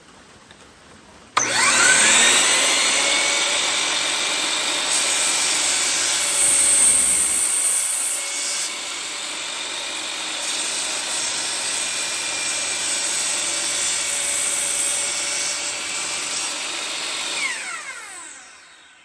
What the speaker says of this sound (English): So I've took my little piece of walnut over to the bandsaw.